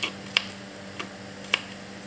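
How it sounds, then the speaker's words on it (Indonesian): Knife slicing garlic cloves on a cutting board, a few sharp separate taps spaced irregularly against a quiet background hum. "Iris bawang putihnya 5 siung."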